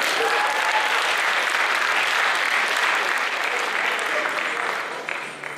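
Audience applause during a sports awards announcement for events such as table tennis, with dense steady clapping from a crowd that fades slightly near the end.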